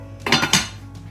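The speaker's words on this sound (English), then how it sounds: "let's get this in the oven." A baking dish of gnocchi with spinach in cream sauce is slid into the oven, giving a brief cluster of clinking, scraping dish and metal rack sounds up close with no talking.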